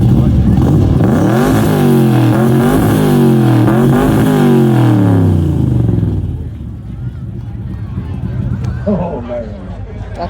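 A 1968 Chevelle or 1966 Corvette classic car engine revs loudly at an outdoor car show, three rising and falling revs in quick succession before settling to a lower idle, with crowd chatter around it.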